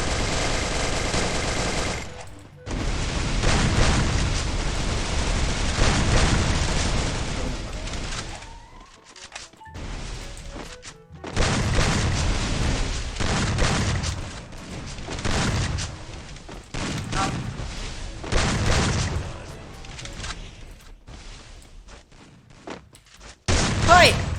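Bursts of automatic gunfire from the Free Fire mobile shooter, sustained rattling volleys broken by short pauses and a final loud shot, with a voice talking over parts of the action.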